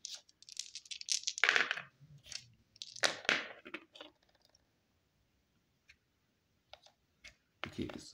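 Dice rattle and click across a table in an Axis and Allies board game, several bursts of tumbling clatter followed by sparse small ticks as they settle, alongside people talking.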